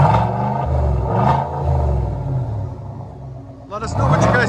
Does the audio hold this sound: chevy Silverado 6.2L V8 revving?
yes